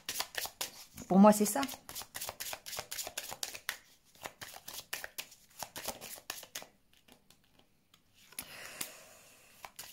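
Oracle cards shuffled in quick papery riffles and then laid out with soft slaps and taps, close and clear, while someone speaks French between the bursts.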